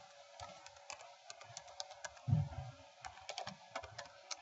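Computer keyboard being typed on, a quiet scatter of light key clicks in irregular quick runs with a soft thump midway, close and faint.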